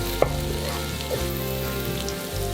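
Shallots, garlic and ginger stir-frying in a wok sizzle steadily up close, with a sharp clink of the utensil at the start and continuous crackling throughout.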